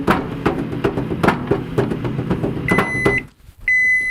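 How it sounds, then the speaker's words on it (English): Microwave oven running with a bar of chocolate inside, a steady close hum with faint rattling clicks, then a brief pause and the high end-of-cycle beeps sounding alone. "The microwave. Let's toss it in for a minute."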